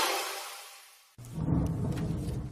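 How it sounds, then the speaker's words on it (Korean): Heavy rain and rolling thunder outside a recording studio, a broad low rumble that breaks off suddenly and then returns as a dense, loud roar of storm noise. "밖에 비 오면서 천둥번개 소리가 지금 녹음실을 진동하고 있습니다."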